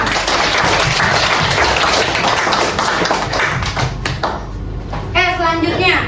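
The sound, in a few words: class applause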